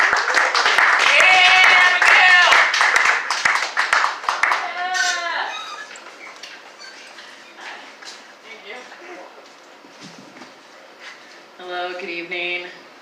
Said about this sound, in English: Everybody give it up for Abigail Lauren.